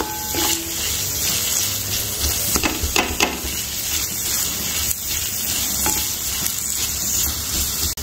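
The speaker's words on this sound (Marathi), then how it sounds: "हा कांदा छान परतून घ्यायचा, तांबूस रंगावर परतणार आहे हा कांदा" Sliced onion frying in hot oil in a pan for dum aloo, a steady loud sizzle with occasional scraping stirs throughout.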